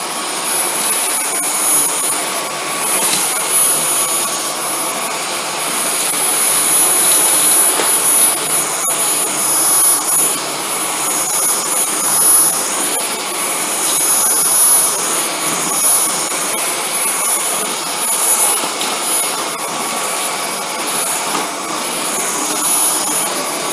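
A Dyson V10 cordless vacuum with soft roller brush runs on medium power over a tile floor, producing a loud, steady high-pitched whine and airy roar that continues throughout with small debris ticks.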